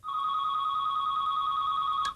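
A telephone rings with a continuous electronic two-tone trill, loud and close, steady for about two seconds before cutting off, with no talking.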